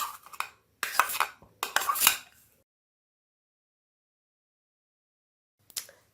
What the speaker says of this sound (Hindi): अब फिर इन सब चीज़ों को अच्छे तरीके से मिक्स करना है।